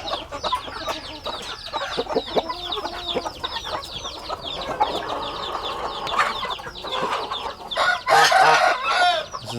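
Aseel chickens cluck continuously nearby while a rooster crows, louder bursts of crowing and squawking rising near the end, with no talk over the flock.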